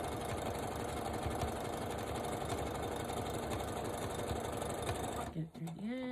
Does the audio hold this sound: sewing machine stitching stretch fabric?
yes